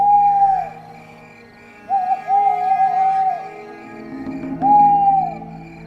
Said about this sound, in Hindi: अंदर चारों तरफ उल्लुओं की आवाजें आ रही थी।